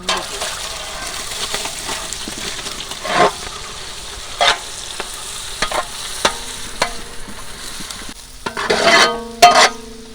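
Onions sizzle in a large pot of oil for goat biryani while a spoon stirs them, a soft constant frying hiss broken by scraping stirs, louder clanks and bursts near the end.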